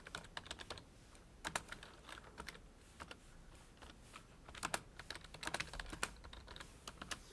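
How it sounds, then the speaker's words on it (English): Typing on a computer keyboard in a broadcast studio setup, quiet clicks in uneven bursts and short runs of keystrokes, close and alone with no talking. "So I'm going to go ahead and type in something right here."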